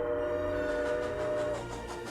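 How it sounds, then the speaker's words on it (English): Santa Fe 3751 steam locomotive sounds a sustained, tonal whistle over a rumbling train, loud and continuous throughout. "Somewhere, a child hears the sound of a train."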